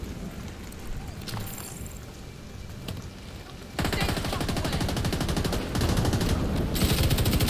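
Rapid light-machine-gun fire in The Division 2, a dense run of loud shots that starts suddenly partway through and continues steadily to the end, with quieter scattered gunfire and combat noise before it.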